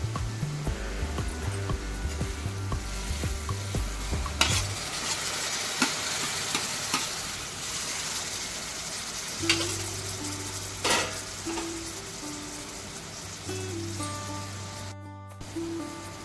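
Wet ambadi (sorrel leaves) added to a hot pan and stir-fried, with a loud steady sizzle and scraping stirring throughout, a burst of frying as the leaves go in, and no talking.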